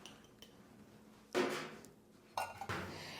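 Quiet clinks and scrapes of a utensil stirring graham cracker crumbs, melted butter and sugar in a bowl, two short bursts of scraping between near silence.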